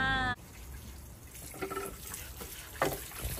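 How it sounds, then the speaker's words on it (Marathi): Water splashing and trickling over a clay roof tile as it is washed, soft intermittent pours and drips close by, following a brief tonal sound at the start. "तोपर्यंत मी कौल धुवून ठेवतो."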